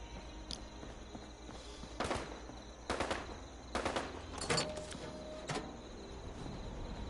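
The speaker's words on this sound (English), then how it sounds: "Somebody's shooting. They're using an automatic weapon too." Automatic weapon fire in the video game Fallout comes in short repeated bursts spaced a second or so apart, fairly distant and muffled, with faint game ambience between them.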